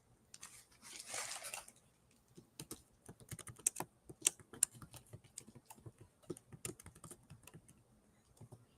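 Close, fast clatter of keys on a computer keyboard in irregular bursts of taps, preceded by a brief rustle, with no talking over it.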